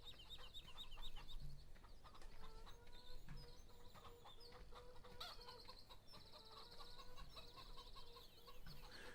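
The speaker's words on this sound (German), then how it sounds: "Chicken!" Chickens clucking in the farming game Farming Simulator 17, a faint busy flock with scattered clucks and short calls over a steady ambient bed, no talking.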